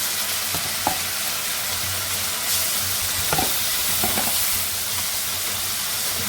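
Spiced masala with garlic and ginger paste frying in a pot gives a loud, steady, close sizzle with occasional soft clicks of stirring throughout.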